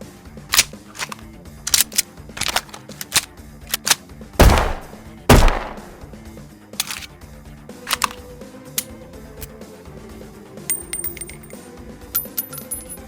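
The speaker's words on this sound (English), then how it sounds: "Are you looking for pistol sound effects?" Pistol shots ring out as loud, sharp single reports, two standing out as the strongest, scattered among lighter clicks and metallic clinks, with no talking.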